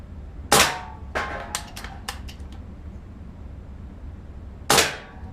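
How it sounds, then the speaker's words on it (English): Benjamin Marauder .22 caliber air rifle fired at cans outdoors: two sharp, loud shots about four seconds apart, the first followed by a few quick metallic clanks of pellets striking cans. "this is shooting the Benjamin Marauder 22 caliber"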